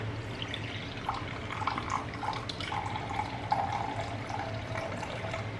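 Filtered water from a Berkeley filter pours in a faint, steady trickle with light splashing, while a pickling brine is mixed in a home kitchen.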